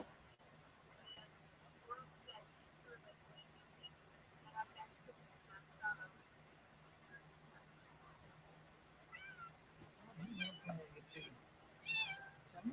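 Pet cats meow faintly and intermittently indoors, short cries scattered over quiet background hum, growing a little more frequent toward the end, while a person talks softly nearby.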